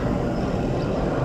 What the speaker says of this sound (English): This helicopter, shut up, man.